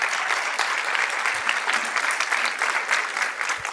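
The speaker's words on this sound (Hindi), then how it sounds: "सभी स्टूडेंट्स अपने फेलो स्टूडेंट्स के लिए ज़ोरदार तालियों से एक दूसरे का स्वागत करें" Loud, dense applause from an audience of students at a convocation ceremony, a continuous close crowd of clapping with no speech.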